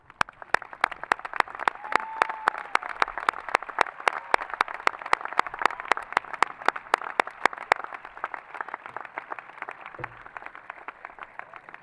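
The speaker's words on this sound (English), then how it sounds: "Please join me in applause as I ask our faculty to stand" Audience applause at a high school graduation ceremony as faculty stand to be recognized, a steady dense wash of many hands clapping that holds strong before thinning out toward the end.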